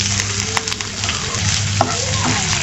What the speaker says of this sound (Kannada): ಇಲ್ಲಿ ಹೆಚ್ಚಿರುವಂಥ 1 ಆನಿಯನನ್ನು ನಾನು ಸೇರಿಸ್ಕೊಳ್ತಾ ಇದ್ದೀನಿ